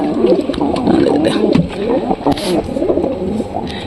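A black pigeon in a loft coos loudly and continuously up close, giving deep, rolling, throaty calls with other loft birds murmuring around it.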